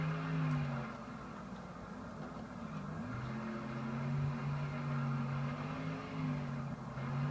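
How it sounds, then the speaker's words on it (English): A race car engine in the PS2 game NASCAR Thunder 2004 hums steadily with a droning, rising and falling whine, moderately distant, as if circling a track. "as you can hear the car going around"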